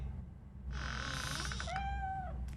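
Cat meowing in the RoboCop: Rogue City video game: a single drawn-out, wavering meow, close and clear, then a second higher cry with a falling tail, over a low game-ambience hum.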